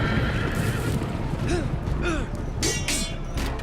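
Horses in the Game of Thrones video game neigh repeatedly while galloping hooves rumble underneath, with a few thumps and crashes mixed in, loud and close over a dense battle din.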